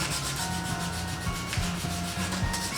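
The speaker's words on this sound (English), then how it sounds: "I'm gonna give it just like a light sand" Light hand sanding of a twig before painting, a steady close rubbing rasp with a rhythmic back-and-forth pulse throughout, no talking.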